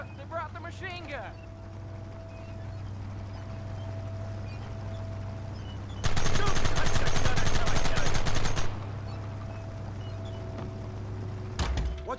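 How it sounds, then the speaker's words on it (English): Machine gun fire in Red Dead Redemption: a steady low engine-like hum runs throughout, then a loud rapid burst of automatic fire rattles for about three seconds, with a brief further shot near the end. "Look, they brought the machine gun!"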